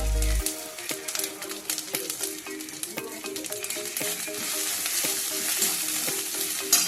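Ginger and onion frying in a pan, a close bright sizzle with repeated scraping taps of a spatula stirring, steady and continuous.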